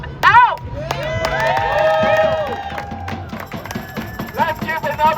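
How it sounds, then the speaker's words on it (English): Crowd cheering and applauding at a No Kings protest rally in New York City, with shouts, whoops and scattered clapping rising and falling through a steady roar of voices, loud and close. "Let's give another round of applause to this young activist!"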